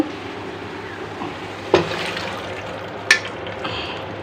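Chickpea dal is tipped into a pot of braised beef cooking for a home-style curry, with a soft clatter around the midpoint and a second sharp knock a little later over a low simmer.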